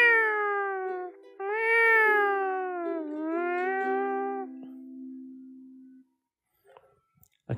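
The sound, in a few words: voice imitating cat meows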